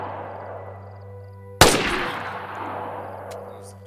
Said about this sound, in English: You can shoot a grenade that's on the ground to make it explode